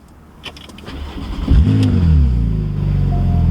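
A Porsche 911 Targa 4S engine cranks briefly, then catches and roars to life with a rising rev before settling into a steady, close idle.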